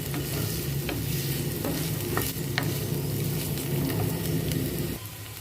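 Medium-size onions sizzle and fry in a pan while being cooked for a paneer curry, a dense steady crackle with occasional sharp stirring clicks, close and continuous with no talking.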